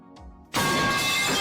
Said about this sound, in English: That's the sound of a pipe.